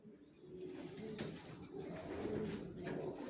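Racer pigeons coo softly in a loft, with low, throaty rolling calls that overlap continuously at close range.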